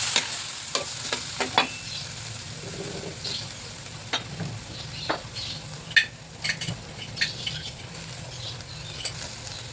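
Corn soup being stirred in a pot, a spoon scraping and tapping the sides in irregular strokes with a soft sizzle underneath, close and moderately quiet, with no talking.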